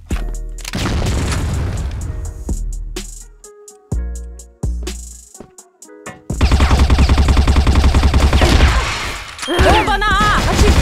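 Video game explosions boom loudly, with a grenade blast among several heavy thuds and crashes, followed by dense rapid gunfire and a few bright tonal effects.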